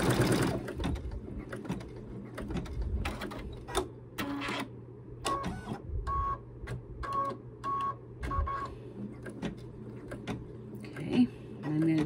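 An embroidery machine stitches the small white eyes of a bee design on a baby bib in quick rattling bursts, with pauses and mechanical clicks between runs and people talking at times around them.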